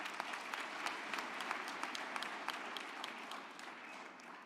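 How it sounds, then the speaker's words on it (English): Audience applause at a university graduation ceremony in a large hall, a dense, steady wash of many hands clapping at moderate level, holding for several seconds before easing slightly toward the end. "Can we give them a round of applause?"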